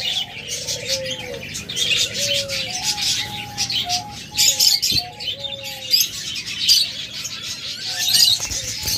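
Caged pet budgerigars, cockatiels and lovebirds chirp and tweet continuously, with a dense layer of high chatter, clearer whistled calls in the foreground and a low cooing note underneath, all fairly close.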